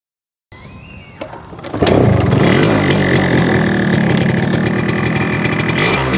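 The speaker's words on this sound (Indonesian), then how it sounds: "setelah 15 menit kemudian langsung nyala motornya" Silence, a few mechanical clicks, then a Yamaha RX-King motorcycle engine starts and runs loudly at a steady, buzzing idle close by.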